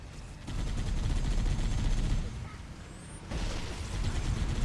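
Rapid bursts of gunfire from Halo: Combat Evolved Anniversary keep up a dense, steady clatter for nearly the whole stretch, loud and close, with a brief dip before the shooting swells again.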